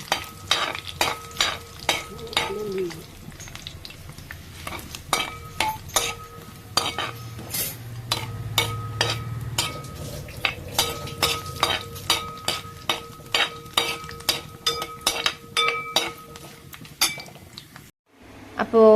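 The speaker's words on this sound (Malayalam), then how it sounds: "നമ്മൾ എണ്ണ ഒഴിച്ചിട്ട് അതിലേക്ക് ആദ്യം ഈ തേങ്ങാക്കൊത്ത് വറുത്തെടുക്കുകയാണ് ചെയ്യുന്നത്" Coconut pieces fry in oil in a pan, with a soft sizzle beneath repeated metallic scrapes and clinks of a spoon stirring against the pan; a brief murmur of voice is heard.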